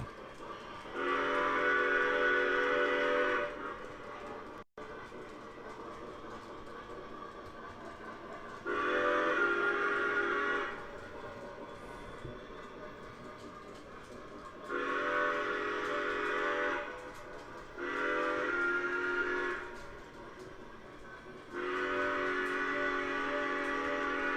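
A Lionel F-19 model steam train runs steadily while a bright two-tone whistle sounds in repeated long blasts, five times, with short gaps between.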